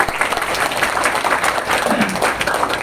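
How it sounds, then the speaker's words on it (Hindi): An audience claps continuously at a spiritual talk, with dense, steady applause that runs loud from start to finish, with no voices heard. "ये ताली अंदर को, जो आवाज है ना, गूंज अंदर तक जानी चाहिए,"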